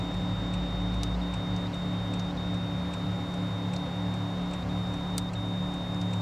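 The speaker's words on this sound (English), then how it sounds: "So ignore the beeping. It always does that." A steady high-pitched electronic tone runs throughout a Mazda RX8 with a 1JZ engine swap, with brief faint beeps now and then over a low humming background.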